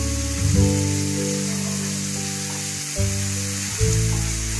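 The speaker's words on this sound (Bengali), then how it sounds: "রসুনটা যেন ভালো করে ভাজা হয়" Garlic sizzles steadily in hot oil in a pan while cooking a boal catfish dum, a continuous close frying hiss sitting under a strong droning hum, with a few brief louder bursts.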